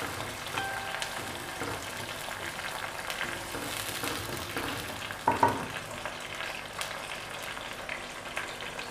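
Daal and meat (gosht) sizzling and frying in a pan with tomatoes while being stirred, a steady crackling hiss broken by scraping spoon strokes and one sharper clatter midway, with no voices.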